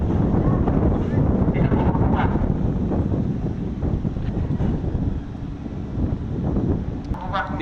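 Strong wind roars and buffets the microphone without a break on a ship manoeuvring against rubber fenders, loud and steady with faint water sounds beneath.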